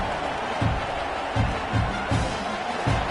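A football stadium crowd keeps up a broad, steady roar with a few low thumps recurring at intervals, distant and diffuse rather than close.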